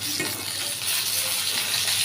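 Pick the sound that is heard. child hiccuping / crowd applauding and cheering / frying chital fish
frying chital fish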